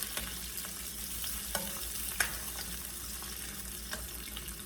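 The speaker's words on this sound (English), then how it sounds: "Now we can add our butter. And just saute the garlic and the onions." Garlic and onions saute in butter in a pan, a steady close sizzle with occasional light clicks from stirring, and no voices.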